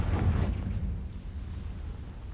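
A Confringo spell blast in Hogwarts Legacy lands as a loud, booming burst with deep rumble, then a low roar that slowly fades over a couple of seconds.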